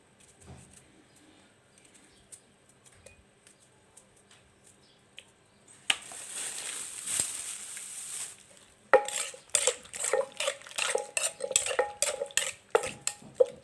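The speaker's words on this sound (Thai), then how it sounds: "ใส่มะเขือเปาะลงไปด้วยน ะคะ ใส่ลงไปเลยนะคะ" Thai eggplants drop into a mortar of papaya salad with fermented fish sauce and are mixed, giving faint handling noises first, then a hiss and a run of sharp wooden and utensil clatters and knocks.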